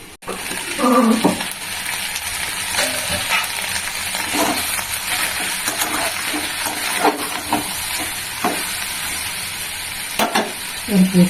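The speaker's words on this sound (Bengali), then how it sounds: "এবার একটু ভাজা হোক, গ্যাসটা কমিয়ে দিয়েছি" Vegetarian thali food, including potatoes, fries in a pan over a lowered gas flame. A soft continuous sizzle runs throughout, broken by scattered clinks and scrapes of stirring.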